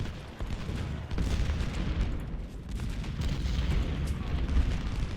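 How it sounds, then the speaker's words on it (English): Cannon fire from artillery batteries in the Civil War strategy game Ultimate General: Civil War, set at Chantilly, booms repeatedly in a dense, rumbling barrage alongside scattered gunfire that continues steadily throughout. "Getting explosive rounds from the cannons down here."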